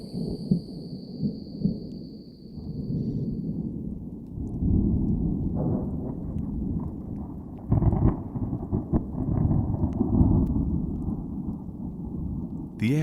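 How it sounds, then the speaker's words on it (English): Thunder rolls on and on through a dry storm in Southern African bush, a deep heavy rumble with several louder swells and a faint high tone at the start. "Thunder roars, but no rain falls."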